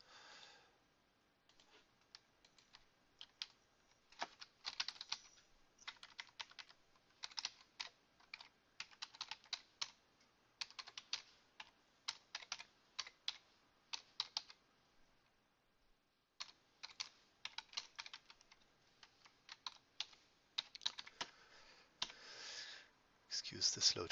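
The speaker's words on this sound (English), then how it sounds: "Excuse the slow typing." Slow, uneven typing on a computer keyboard, close and quiet, with clusters of soft key clicks separated by pauses and a short gap midway.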